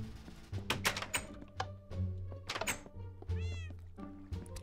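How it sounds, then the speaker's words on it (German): A Minecraft cat meows several times in quick succession, the in-game calls mixed with soft thunks and clicks of play. "Miau, ah ja, jetzt unten ist immer nur die Katze am Abgammeln"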